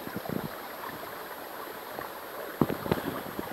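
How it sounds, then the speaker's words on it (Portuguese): Running water of a stream in dense forest off-trail on Mestre Álvaro gives a steady, close rushing wash. A few brief splashy bursts rise above it near the end, with no talk. "Água corrente"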